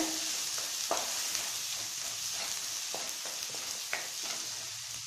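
Steady hiss of coriander, chili and turmeric powders frying in hot oil over low flame, with occasional soft scraping strokes of a spoon stirring through it.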